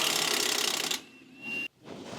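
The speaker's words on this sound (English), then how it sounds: "I'm going to use a little electric gun and just pull it out." An electric impact gun on a 14mm bolt of an 8th-generation Honda Civic gives a loud rapid hammering burst for about a second, then a quieter whir and a short second burst.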